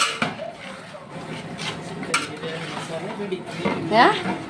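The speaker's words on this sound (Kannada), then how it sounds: "ಚೆನ್ನಾಗಿ ಮಿಕ್ಸ್ ಮಾಡೋದು." Utensils scrape and clink against a pot as chicken biryani masala is stirred and mixed, with soft sizzling and kitchen clatter throughout.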